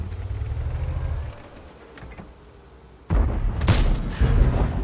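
A heavy booming shot from a video game erupts partway through, loud and low, followed by rumbling blasts after a quieter stretch.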